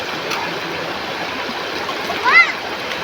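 Steady, continuous rushing of a flowing river at New Panay fills the scene evenly, with a brief high whistling sound rising over the water near the end.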